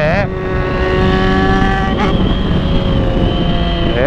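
A Yamaha XJ6 motorcycle accelerates hard, its engine screaming upward through the revs with quick gear shifts, loud and close.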